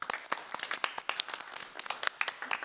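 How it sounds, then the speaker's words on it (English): Scattered applause from a small stand-up comedy audience, sparse individual claps with distinct sharp hits, fairly quiet and uneven, no voices over it. "Let's get a good triangle of applause for Robert Gresham"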